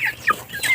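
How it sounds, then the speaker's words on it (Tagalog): Young chicks about a week old, a mix of Rhode Island Red and black native chickens, cheeping in a few high, bright, rapid peeps up close. "mga 1 week at day old ko na mga sisiw"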